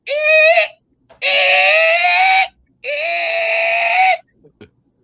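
A person imitates a mink's call with three loud, close, sustained bleating cries separated by short pauses, each a strained, nasal wail.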